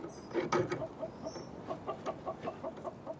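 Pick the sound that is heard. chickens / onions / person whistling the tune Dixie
chickens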